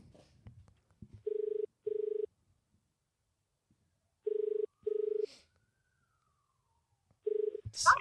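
Phone ringback tone during an outgoing call, sounding as paired beeps that repeat three times with silent gaps between them, clear and alone.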